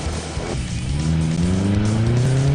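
An off-road race buggy with a 2-litre engine sets off at the Lichtenburg 200 rally race, its engine revving up close and loud with a rising pitch as it pulls away.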